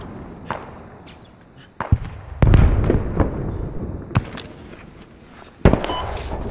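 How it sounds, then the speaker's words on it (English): A rocket fired in the military shooter Squad: a few sharp distant cracks, then a loud whooshing launch and roaring blast, followed by more scattered booms. "I fire rocket there now."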